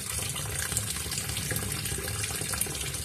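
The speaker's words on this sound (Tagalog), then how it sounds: "Kaya kailangan pong hugasan natin ang prutas bago po natin kakainin." Tap water runs steadily into a bowl as grapes are washed under it, making a constant, even splashing rush with no one speaking.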